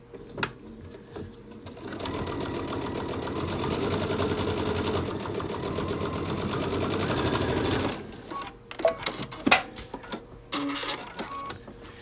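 A Baby Lock sewing machine fitted with an edge joining foot runs a steady, fast top-stitching burst on fabric straps for about six seconds, close and even, followed by scattered mechanical clicks and taps.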